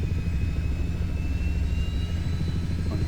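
Steady turbine whine from an SH-60 Seahawk helicopter engine starter in a flight simulator game, a continuous loud drone with a thin high tone running throughout, no talk.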